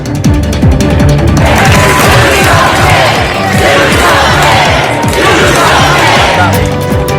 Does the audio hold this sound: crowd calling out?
yes